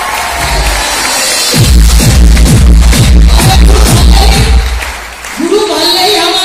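An audience at a motivational speech claps strongly for a mentor. A dense burst of applause swells for several seconds over a loud, reverberant hall, then fades as a voice returns.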